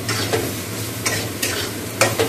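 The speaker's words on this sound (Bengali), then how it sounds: "নিউটেলাগুলো একটু ভেজে নিচ্ছি" Food fries in a pan with a gentle, steady sizzle while a spatula scrapes through it in a few distinct strokes, close and without voices.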